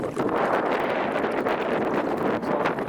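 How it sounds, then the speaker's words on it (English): Wind blowing at a lake on a canoe trip, a steady loud roaring rush buffeting the microphone for the whole stretch, no talking. "the wind is horrible. It's just calming down a bit now."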